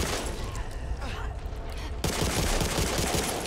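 Gunfire in the zombie shooter Back 4 Blood: a dense, continuous burst of rapid shots runs throughout, getting louder and heavier about halfway through, with chaotic game noise beneath.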